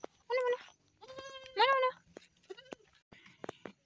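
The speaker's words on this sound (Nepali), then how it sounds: "बाख्रा" Goats bleating beside a steep hillside path near a stream, with several short wavering calls close by, each followed by quieter rustling and clicks.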